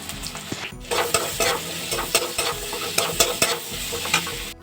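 Potatoes tossed into a hot pan with chilies, sizzling loudly while a utensil stirs and scrapes against the metal in uneven, close bursts.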